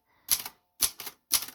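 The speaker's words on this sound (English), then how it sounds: "I'm just going to be hitting some random keys really for the moment" A Silver Reed typewriter is struck with three separate, evenly spaced key strikes, each a sharp close clack followed by a short rattle, with silence between.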